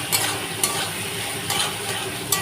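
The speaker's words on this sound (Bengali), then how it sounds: "তো এর মধ্যে এখন দিয়ে দেবো এই যে ভেজে রাখা আলু আর চিংড়ি মাছটা" Chicken with fried potatoes and prawns is stirred into a spiced gravy cooking with ridge gourd, giving a soft, steady sizzle broken by a few sharp clinks of the spoon against the pan.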